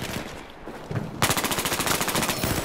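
Rapid automatic gunfire bursts loud and close in the video game Battlefield 4, a steady rattling stream kicking in after a quieter stretch of ambient battle noise, with no talking.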